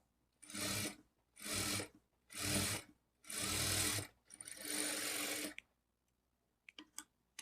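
A sewing machine stitching a second seam on a blouse at a half-inch margin: five loud, close bursts of rapid whirring stitching separated by short pauses, followed by a few faint clicks and handling sounds.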